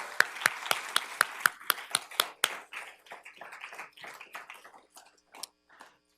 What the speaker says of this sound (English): Please join me in one more round of applause for our young leaders and adult actors.